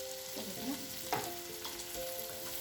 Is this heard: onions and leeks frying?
yes